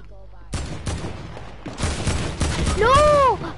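Gunfire in a PS4 video game comes as sharp, loud bursts of shots with short gaps, building to denser firing, and a shouting voice breaks in near the end.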